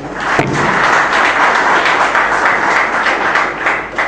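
An audience at a public lecture breaks into loud, dense applause that runs steadily throughout, with a dull thump near the start.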